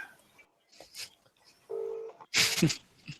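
Telephone keypad tones from a phone being dialed, short tonal beeps separated by gaps and followed by a louder burst, near and fairly clear.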